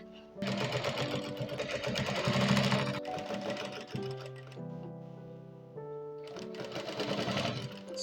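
A sewing machine runs close and steady along the edge of a see-through bustier, its rapid mechanical stitching hum continuing in two long bursts with a short slower stretch between.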